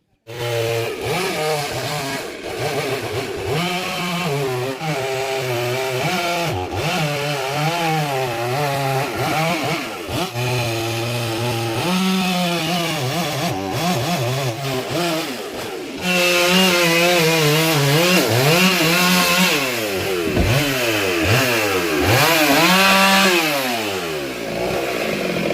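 A chainsaw cuts through the last piece of a tamarind tree, its engine loud and close, revving up and bogging down repeatedly as it bites into the wood, growing louder and rougher in the second half.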